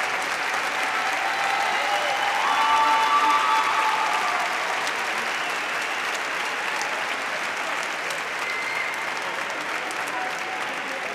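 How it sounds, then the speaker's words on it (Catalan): Sustained applause for graduates fills the hall at a 2022 university graduation ceremony, an even wash of many clapping hands lasting about eleven seconds, slightly swelling early, then holding steady. "Un fort aplaudiment per a tots els graduats"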